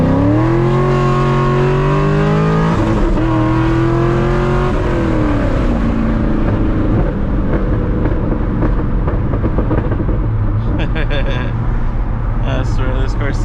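A Chevrolet C6 Corvette engine revs and pulls hard through the gears, loud and close from inside the car, pitch rising then dropping at a shift before settling into steady cruising drone.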